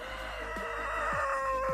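A rooster on a mountain homestead crows in one long, strained call, close and steady, with a low hum running under it and no talk.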